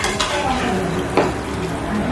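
Food with spices stirred in a pan for a Bengali meal, soft scraping and sizzling with a spoon knock against the metal, close and steady over a brief stretch.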